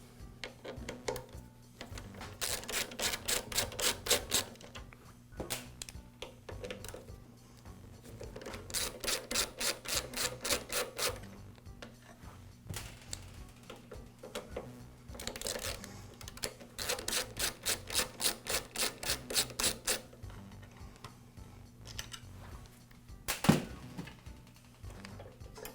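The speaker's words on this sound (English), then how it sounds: "I can remove the primer base." Rapid bursts of ratcheting clicks come in several separate runs, close and fairly quiet, as the primer base is removed from a Briggs & Stratton small engine during carburetor replacement.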